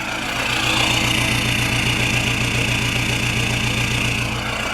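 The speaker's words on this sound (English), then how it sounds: "And the exhaust note is rather different." Peugeot 306 2.1 with a new manifold, turbo and exhaust idles steadily, its exhaust note a continuous low, slightly uneven burble heard up close with no talking.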